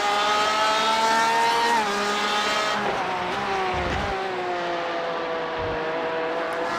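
GTE sports cars race in a sim racing game at Daytona International Speedway, engines whining loud and close as they pass through the kink into the Western Horseshoe, pitch shifting with gear changes and a few brief tire scrubs.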